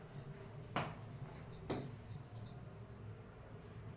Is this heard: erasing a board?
yes